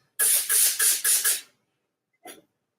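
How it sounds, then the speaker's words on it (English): Hot iron pressing fabric during serger sewing on a kaftan, with five loud, rhythmic steam-like hissing bursts close up, a pause, then one shorter burst. "Now we're hitting it with the hot iron."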